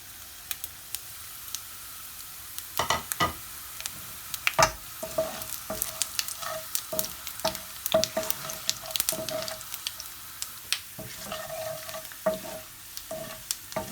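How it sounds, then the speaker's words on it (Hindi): Cumin and nigella seeds fry with garlic in hot oil, a soft sizzle crackling under frequent stirring scrapes and clicks, close and moderately quiet, with no voices. "अब हम इस स्टेज पर इसमें डाल देंगे ज़ीरा और कलौंजी"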